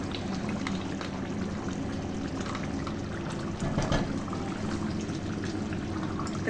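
Yogurt goes into a pot of cooking masala for achari chicken, giving a steady loud bubbling sizzle with a brief wetter splash of pouring partway through.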